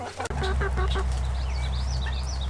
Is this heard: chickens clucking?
yes